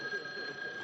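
A telephone rings in a sitcom apartment scene, a brief, faint steady electric ring tone heard alone.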